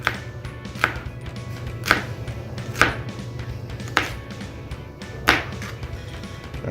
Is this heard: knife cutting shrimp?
yes